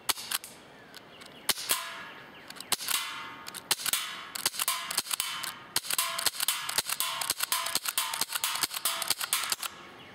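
Rapid gas-powered shots from an HGX125 G2 non-blowback airsoft pistol smack into a metal sign target, sharp clanging ticks arriving in an irregular string, some in quick bursts, close and crisp with no talking.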